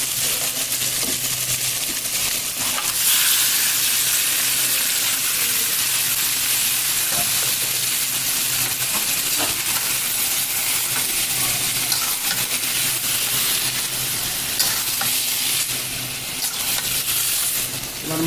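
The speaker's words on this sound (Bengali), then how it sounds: "এখন আমি এই ম্যারিনেট করা মাংসটা দিয়ে দেব।" Marinated mutton hitting a hot pan, giving a steady bright sizzle and hiss throughout with occasional small clinks and stirring scrapes, fairly close and continuous.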